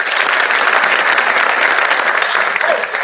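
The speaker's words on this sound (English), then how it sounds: "give yourself a round of applause" An audience claps steadily for about three seconds at the close of a presentation, a dense, even wash of applause from a crowd with no voices over it.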